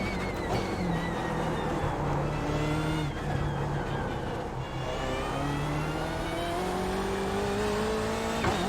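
A car lapping a race track, its engine droning steadily and loud throughout, rising and falling in pitch through gear changes and acceleration, with no voices over it.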